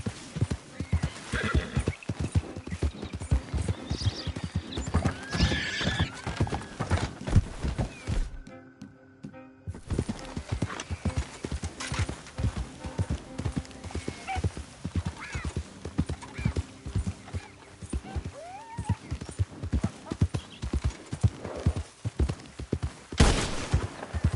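A horse gallops and neighs in Red Dead Redemption 2, with steady, close hoofbeats running almost throughout, a short pause midway, a couple of whinnies, and a few sharp thumps like distant gunfire.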